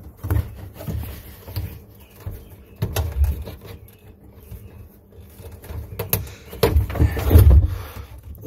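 A wrench strains against a stuck fitting on a 1996 Sea-Doo GTI watercraft, giving several close, irregular metallic knocks and scrapes with louder creaking bursts near the end, and no voice.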